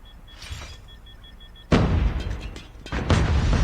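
Grenade explosions in the Call of Duty Mobile battle royale game: two sharp, loud booms land about a second apart and ring out briefly after a quieter stretch of game sound.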